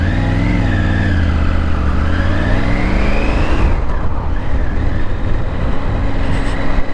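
A 2023 Triumph Tiger 900 in sport mode rides with a loud, close engine drone that rises and falls with the throttle, with steady wind and road noise.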